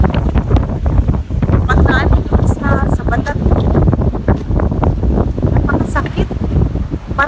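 Strong wind on a beach in Boracay, Philippines buffets the microphone in loud, rough gusts, with a person talking underneath the constant blustering roar.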